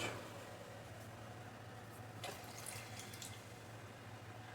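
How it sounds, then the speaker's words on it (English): Water runs steadily into a canner in a faint, continuous pour, with a low hum underneath and a couple of soft knocks partway through. "I'm going to add just a little more water in there"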